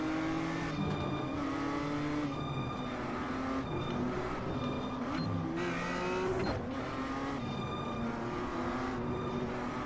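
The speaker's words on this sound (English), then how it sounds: "I think you've got some engine blip" A NASCAR race car engine in iRacing at Michigan drones and revs steadily with gear-shift blips, constant and loud, with faint tire noise underneath.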